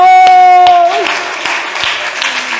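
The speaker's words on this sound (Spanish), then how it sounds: "Denle un aplauso a Dios" A church congregation at a Spanish-language service bursts into applause for God. Held musical tones fade out first, then a broad, dense clapping crowd swells and carries on loudly beneath a faint voice.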